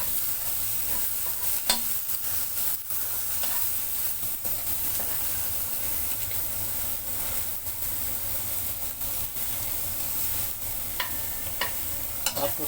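Garlic and ginger sizzle steadily in plenty of oil for fried rice, with a constant broadband hiss broken by occasional scraping stirs and small pops, close and fairly quiet, no talking.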